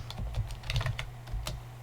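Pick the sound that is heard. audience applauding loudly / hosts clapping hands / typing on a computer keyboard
typing on a computer keyboard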